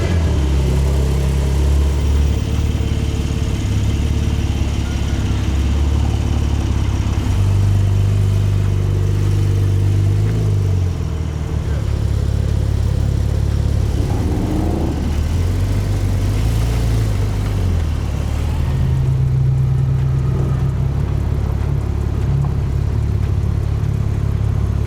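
A Porsche Turbo S engine runs while the car is being loaded, a continuous loud low drone with shifting pitch from gentle throttle changes, steady and close for the whole stretch.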